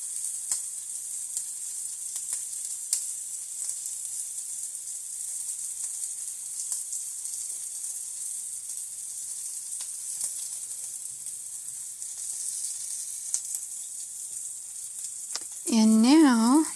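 Sausage fries in oil on a stove burner running too hot, a continuous high crackling sizzle with small pops throughout, and a voice briefly comes in near the end.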